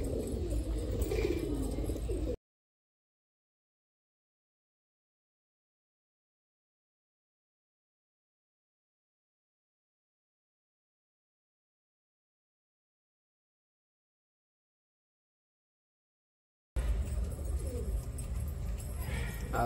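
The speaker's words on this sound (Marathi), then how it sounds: "आज आलो मित्रांनो कबूतर बघायला मित्राकडे।" Pigeons coo in a friend's loft where birds sit on eggs. The soft calls come briefly at the start and again at the end, with a long silence between.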